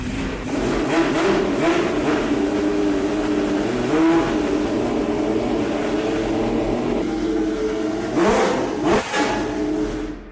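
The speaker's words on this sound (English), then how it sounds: "today we're pretty excited to hear all these cars in action" Historic Formula 1 race car engines rev and roar continuously, with a couple of loud passes near the end, harsh and close.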